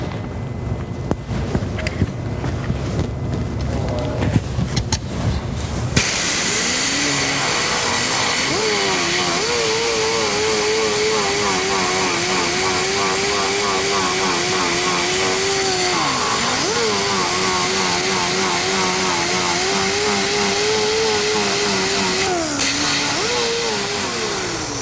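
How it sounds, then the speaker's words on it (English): Air grinder with a 24 grit disc grinding down car body metal during auto body repair, a loud sustained whining roar that starts after several seconds of noisy handling and holds steady with slight pitch dips. "going to use an air grinder to grind this away"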